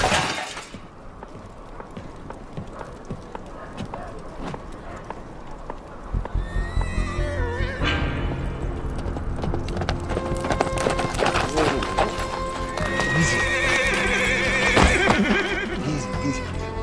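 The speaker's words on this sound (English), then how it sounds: "That's Slim's horse." A horse whinnies loudly nearby, and its hooves clop in an uneven rhythm. A brief crash or shattering sound is heard, and other animal noises and ambient sounds fill in around them with no speech.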